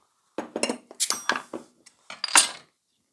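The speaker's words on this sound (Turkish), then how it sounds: "Devamında bir kaşık ile karıştırarak" A spoon stirs a Cuba Libre cocktail in a glass, making a short run of close, bright clinks and rattles against the glass that stops after about two seconds, in otherwise quiet surroundings.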